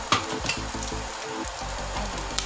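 Food sautéing with onion and garlic in a pan of leftover adobo, a close, steady sizzle and crackle with the scrape of stirring running throughout.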